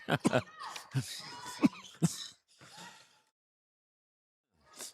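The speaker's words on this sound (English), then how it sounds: "Getting a little cough out of the system." A few short, sharp coughs and throat-clearing bursts, fairly close, at a high school basketball tournament game, followed by a quieter rasp and brief silence.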